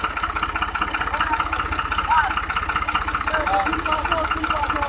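A tractor engine hitched to a loaded trolley idles with a steady, rapid low chugging pulse throughout, while someone talks over it.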